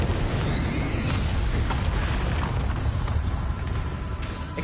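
Bombarda spell explosions in Hogwarts Legacy, a dense, loud roar of booming blasts and crackling bursts that runs without pause, with no talking.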